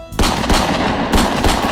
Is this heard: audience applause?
no